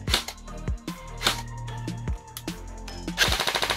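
A Nuprol Delta Freedom Fighter airsoft gun fires on full auto at about 13 rounds a second, loud close bursts of rapid mechanical snapping shots separated by brief pauses, ending in a quick rattling string.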